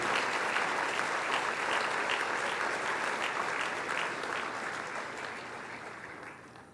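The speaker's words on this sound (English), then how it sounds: "Let's extend another round of applause" Sustained, full audience applause at a university awards banquet, steady dense clapping that slowly tapers off.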